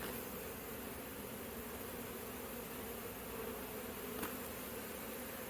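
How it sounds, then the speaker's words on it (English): Honey bees drone steadily in a thick, unbroken hum as they are scooped out during a hive removal in Corona, with a single faint click near the end. "Scooping bees."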